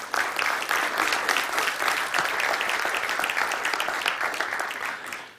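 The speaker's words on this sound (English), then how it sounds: "Let's give them a round of applause." A roomful of people at a property summit event claps in a dense, sustained round of applause, steady throughout and tapering off at the very end.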